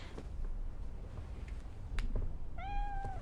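A cat meows in Cyberpunk 2077: a single clear, rising-then-steady meow near the end, after a few light snaps and soft clicks over a quiet background.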